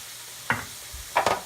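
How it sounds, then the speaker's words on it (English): Butter hits a hot pan of broccoli with a steady low sizzle, broken by two short stirring scrapes, close and with no voices. "I'm going to add in my butter."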